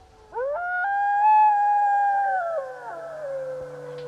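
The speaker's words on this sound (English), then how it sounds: "all of the howls in this recording are quite short" A single wolf-like howl from a recording said to capture Bigfoot rises quickly, holds a clear, tonal pitch for a couple of seconds, then slides downward and fades. A faint, lower sustained tone lingers underneath.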